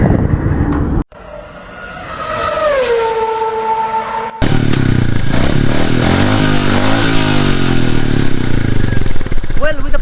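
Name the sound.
Royal Enfield Meteor 350 motorcycle engine and exhaust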